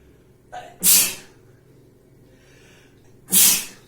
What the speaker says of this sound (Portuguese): Pausa para espirrar, né?